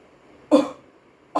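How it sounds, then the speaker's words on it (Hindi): Two coughs, one harsh and full, the second starting as the clip ends, close and loud against a quiet background. "सॉरी खांसी हो रही है"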